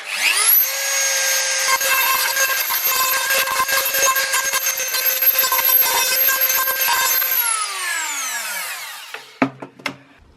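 A rotary tool with a small stone grinding bit smooths a part during a Honda Super Cub suspension upgrade, spinning up to a high, close whine, grinding steadily, then winding down before a few light clattering knocks.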